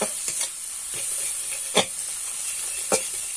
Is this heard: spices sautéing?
yes